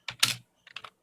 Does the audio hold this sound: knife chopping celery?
no